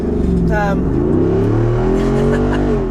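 The 6.4-liter V8 of a 2024 Jeep Wrangler 392 Final Edition revs up loudly and close, its pitch climbing and holding in a deep, throaty roar while a person talks over it.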